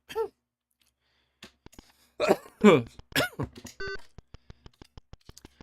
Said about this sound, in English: Apologies for these spontaneous coughing fits.